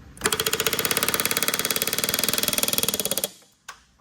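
A pneumatic rivet gun sets a rivet on an Airstream trailer, firing a fast, evenly spaced hammering burst for about three seconds at close range before cutting off, followed by a single clack.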